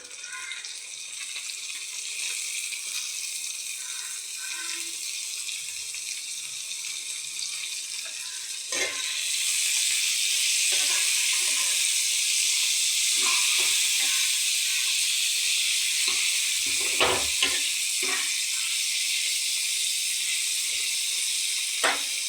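Capsicum frying with onion and tomato in a pan, a constant close sizzle that grows louder partway through, with occasional spatula taps and scrapes.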